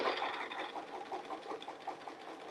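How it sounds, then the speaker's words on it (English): A sewing machine stitches fabric all the way to the edge along the stitch line, its rapid, even needle chatter running quietly throughout. "We'll sew all the way to the edge, to the stitch line."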